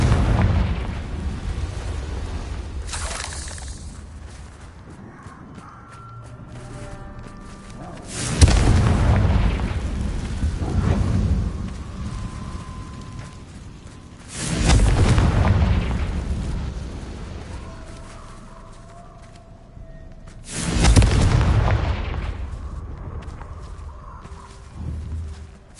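Confringo fire spells detonate in Hogwarts Legacy, four heavy booming explosions spaced several seconds apart, each a loud broadband blast with a rumbling tail over quieter game ambience and music.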